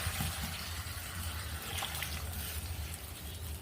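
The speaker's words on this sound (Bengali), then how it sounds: "এখন দিয়ে দিব আমি পরিমাণ মতো জলের পানি।" Water is poured into a pan of cooking banana curry, a steady rushing splash that runs unbroken and fairly close for a few seconds, with no talking.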